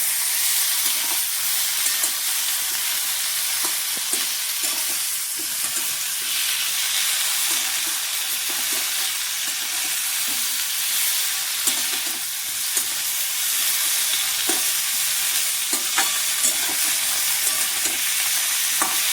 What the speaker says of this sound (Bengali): নুন দিয়ে আদা বাটাটাকে তরকারির সঙ্গে একটু আমি কষিয়ে নেব